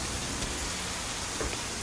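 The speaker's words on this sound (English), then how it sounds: "On a rainy day like this, nothing better than hot pakoras or bhajiyas." Steady rain falling on a rainy day, a dense, even hiss of drops with no pauses, close and moderately loud, heard on its own without any voices.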